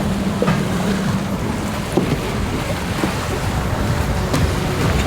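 Strong wind buffets a racing sailboat at sea off Cap d'Antibes during an offshore ocean race, a steady loud roar of gusts and rushing water with hull slaps and occasional thumps, no voices.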